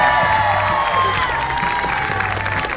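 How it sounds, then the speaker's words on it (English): Spectators at a wiffle ball game cheer and shout, with whoops and high voices rising over a busy crowd din and scattered clapping. "Crowd getting hype on this pitch from the tall righty"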